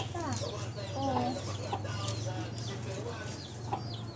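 A chicken clucks repeatedly in a rural countryside setting, with short chirpy calls scattered over a constant low background hum, fairly close and moderately loud.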